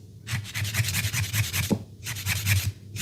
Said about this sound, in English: going with my file at an angle as opposed to being straight like this